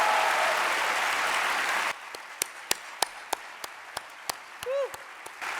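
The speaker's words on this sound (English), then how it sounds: "let's take a moment to give our student performances and our DJ another round of applause" An audience applauding after student performances and a DJ set at a community assembly: dense, full clapping for about two seconds that cuts off abruptly, followed by a few scattered single claps and a short vocal whoop.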